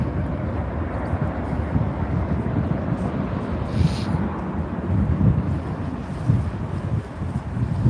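A Jet2 airliner rolling out along the runway after a slightly bouncy touchdown at Newcastle Airport, heard as a steady, distant broadband roar with wind rumble over the microphone, no voices.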